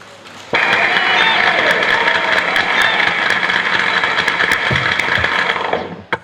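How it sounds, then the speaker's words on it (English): An audience at the Offa Development Union medical outreach tenth-anniversary lecture breaks into sudden, loud, dense applause that holds steady for about five seconds before quickly dying away. "Please clap for yourself"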